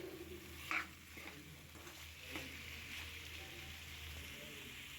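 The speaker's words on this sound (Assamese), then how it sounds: "ইয়াতে মই আলু আৰু ফুলকবিখিনি দুবাৰমান লৰাই ল'ম" Fried potatoes and cauliflower stirred in spices in a pan, a soft sizzle with light scraping strokes, faint and steady throughout.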